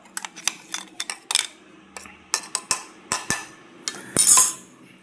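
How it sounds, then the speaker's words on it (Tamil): A spoon clinks and scrapes against a steel bowl while ground roasted lentils, chilies and curry leaves are mixed into curd, giving irregular sharp metallic taps and scrapes at close range. "இதை அந்த தயிர் கூட போட்டு மிக்ஸ் பண்ணிக்கலாம்."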